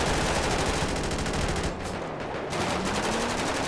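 Rapid machine-gun fire in GTA 5 during a chase after a stolen mega yacht, a dense continuous rattle of bursts that dips briefly then resumes loud and close.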